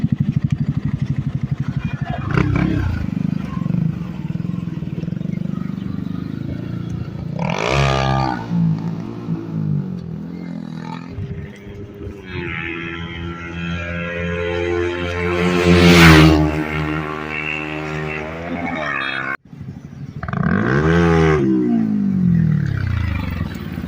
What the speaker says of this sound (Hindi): तो कैसा लगा दोस्तों अभी मेरा स्टॉक एग्जॉस्ट साउंड सुन के?